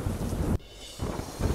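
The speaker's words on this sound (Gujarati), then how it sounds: "મોટા દેવળિયા ફુલઝર નીલવડા સહિતના ગામોમાં મુશળધાર વરસાદ." Thunderstorm with torrential downpour over villages in Amreli, a loud broad roar of heavy rain and rumbling thunder that drops off sharply, then swells back up, with no voices.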